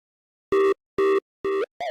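Four short synthesized drum hits with heavy distortion sound one after another at an even pace, each a buzzy, pitched, harsh burst separated by silence, with no voices.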